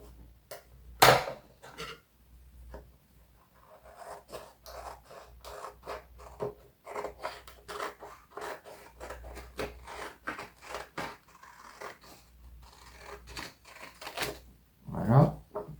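Scissors cut through paper for a papercraft project in repeated short, crisp snips and scratchy rustles, close but fairly quiet, with a couple of sharper handling noises.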